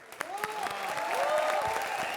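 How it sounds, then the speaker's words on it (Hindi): A studio audience at a comedy show breaks into applause that builds and fills the room for a couple of seconds, with a voice calling out over the clapping. "जोरदार तालियां"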